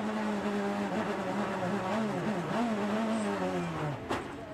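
On-board sound from the number 55 BMW race car at the Baltimore ALMS street race: a loud, close engine note that rises and dips through gear changes and throttle lifts, sustained throughout with a brief thump near the end.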